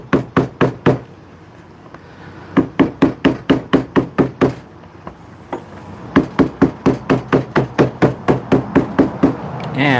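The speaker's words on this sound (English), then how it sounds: "you take it and you hammer the threads down" A hammer taps steadily on leather to flatten sewn threads, dozens of crisp, close knocks in quick bursts with short pauses between runs, loud and alone without any talking.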